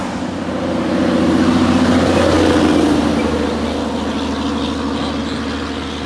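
A heavy truck with an ISX diesel engine climbing a hill, its low engine drone swelling as it nears and then staying a steady loud rumble with road and wind noise.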